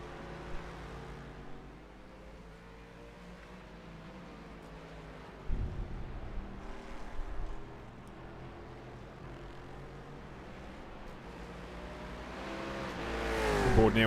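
Aston Martin and Corvette GT1 race car engines in iRacing roar as a steady, droning engine note with shifting pitch, moderately loud and rising toward the end, with no talk.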